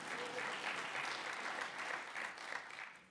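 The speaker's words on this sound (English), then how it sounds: "you can clap" An audience at a political forum applauds in a dense, continuous wash of clapping heard from a distance, holding steady throughout.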